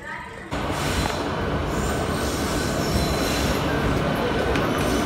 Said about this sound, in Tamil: ட்ரெயின் வந்துருக்கு